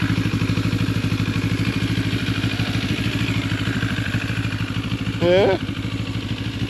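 A Benelli TRK 702 adventure motorcycle engine running at a steady idle, a loud, even rhythmic putter throughout, with a brief word spoken over it near the end.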